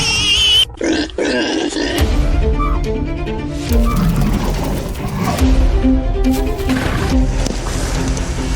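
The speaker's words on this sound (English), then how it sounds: "The wild boar flees." A warthog grunting as it flees across the savanna, deep rough grunts and snorts repeating close and loud over a dense, busy background.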